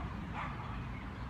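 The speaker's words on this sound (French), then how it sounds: "Snoopy qui aboie" Snoopy, a pet dog, yips and barks in a short burst, close by and fairly quiet, with general room noise underneath.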